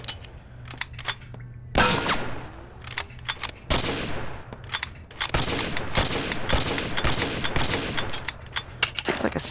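Silenced carbine rifle shots from Gun Club VR, fired in a rapid irregular string of sharp cracks, loud and close, with a few brief pauses between bursts.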